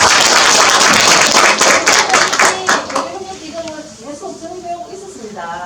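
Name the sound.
audience applause at lecture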